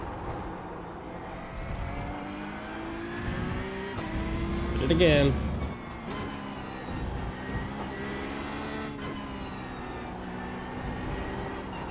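A Porsche race car engine revs on the throttle in the iRacing sim, with a steady droning pitch that rises and falls, a brief louder surge midway, and someone talking over it.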